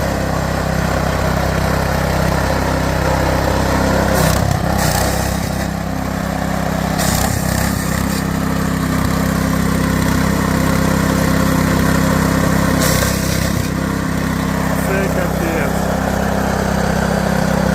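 A Skif WS-4100 wood chipper shreds branches, its engine droning loud and steady with a few brief bursts of crunching and grinding as branches feed through.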